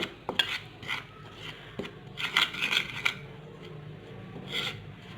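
A spoon stirs a paste of sandalwood powder and lemon juice in a bowl, giving soft, irregular scraping and rubbing strokes with a few sharper clinks, close up and fairly quiet, with no talking.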